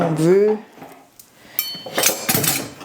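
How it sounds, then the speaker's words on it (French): Onion, garlic and ginger go into a hot pot together for carrot soup; a voice speaks first, then a burst of clattering, crackling sizzle follows, close and moderately loud. "J'envoie mon oignon, mon ail et mon gingembre, les trois à la fois"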